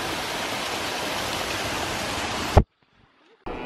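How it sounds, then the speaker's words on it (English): Steady roaring rush of a waterfall at Wisconsin Dells, loud and continuous for a few seconds before cutting abruptly to near silence. "Oh, yeah, I wanted to get the waterfall too."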